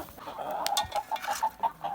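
Young Leghorn hens that have just started laying cluck in a quick series of short, evenly spaced calls close by, with soft farmyard sounds underneath.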